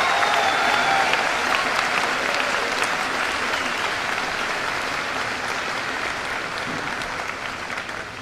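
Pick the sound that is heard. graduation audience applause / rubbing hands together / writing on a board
graduation audience applause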